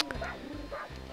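A Dalmatian puppy in the video game 102 Dalmatians: Puppies to the Rescue gives a quick run of three or so yappy barks over game music, close and clear.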